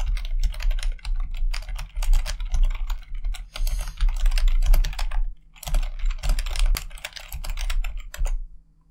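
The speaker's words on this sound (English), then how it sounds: "I'm probably gonna have to mute this bit so you don't hear the click clacking" Rapid clicking of computer keyboard keys during a typing test, a dense close-up clatter in bursts with brief pauses between runs.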